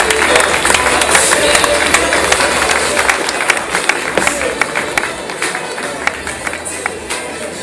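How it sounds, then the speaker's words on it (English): An audience at the Tech in Asia Tokyo 2016 award ceremony gives loud, sustained applause as panelists exit the stage, dense clapping with occasional whoops that slowly tapers off. "Please give a big round of applause to all of our panelists as they exit the stage"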